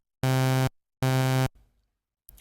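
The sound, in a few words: synthesizer note with envelope attack at zero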